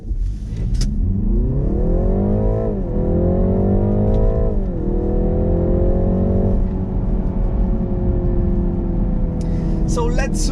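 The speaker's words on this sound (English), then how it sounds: "So let's try to accelerate fast once again." A BMW G20 330e Touring plug-in hybrid with a B48 engine accelerates hard, its engine note climbing steadily through several gear changes as a loud, rising drone heard from inside the cabin.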